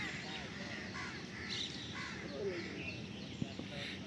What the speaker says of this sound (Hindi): ये यहाँ अलग ही प्रजाति की चिड़िया है